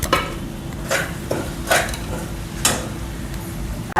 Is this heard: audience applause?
no